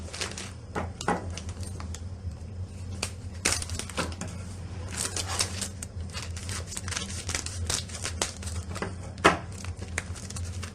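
Crinkling and rustling of a plastic bag as pastry sheets for brik are pulled out, a busy run of close crackles and crumples across the whole stretch.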